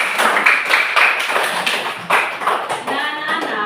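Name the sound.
clapping in a classroom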